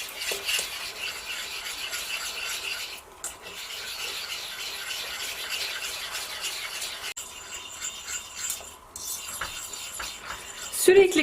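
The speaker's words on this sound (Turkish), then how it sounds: "Kalınlaşıncaya kadar böyle karıştırarak pişiriyoruz." A spoon scrapes and rubs continuously around a pot while béchamel sauce cooks and thickens, with a steady close-up stirring texture and a few short pauses.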